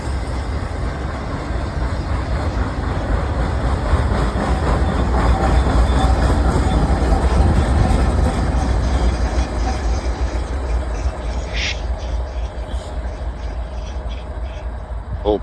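BNSF intermodal freight train passing at night in the first snow, a distributed power locomotive mid-train: a loud, continuous roar and rumble of cars and wheels throughout, close by, with a brief squeal near the end.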